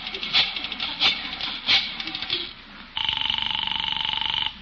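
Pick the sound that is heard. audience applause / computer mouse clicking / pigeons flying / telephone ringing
telephone ringing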